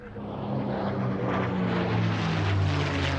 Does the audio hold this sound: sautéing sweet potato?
no